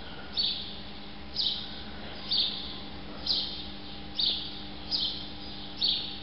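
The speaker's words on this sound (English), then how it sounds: "There's a lot of sparrows in here." Sparrows inside a warehouse give short, bright chirps in a steady series, about seven calls roughly one second apart, clear against a quiet room with a low background hum.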